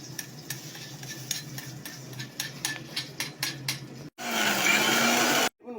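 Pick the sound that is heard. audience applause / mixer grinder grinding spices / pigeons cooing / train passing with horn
mixer grinder grinding spices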